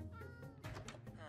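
A Minecraft cat gives short in-game meows, soft and quick, over a quiet game background.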